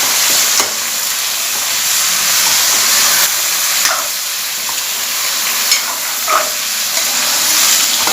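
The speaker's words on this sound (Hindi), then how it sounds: "बैंगन को हल्का सा सौते करेंगे।" Eggplant sautés in a pan for Bihari-style baigan aloo bhujia, a steady loud sizzle and hiss of frying with occasional soft stirring clicks and bumps, no talking.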